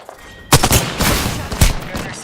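Rapid bursts of automatic gunfire in the Apex Legends video game crack out in several loud volleys, with a brief voice underneath.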